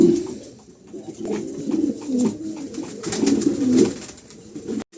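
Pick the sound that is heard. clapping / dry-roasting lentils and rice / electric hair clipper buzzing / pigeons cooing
pigeons cooing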